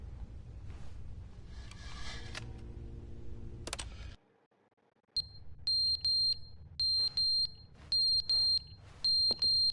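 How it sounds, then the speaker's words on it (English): Repeating electronic alarm beeps from The Stanley Parable Ultra Deluxe, arriving in short evenly spaced bursts after a stretch of low rumbling ambience and a brief silence, sharp and fairly loud. "There's like a beeping noise."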